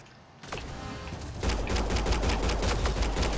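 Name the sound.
gunfire in the video game Mass Effect: Andromeda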